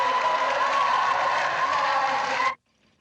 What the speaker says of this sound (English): he cuts from the cheering crowd in the concert auditorium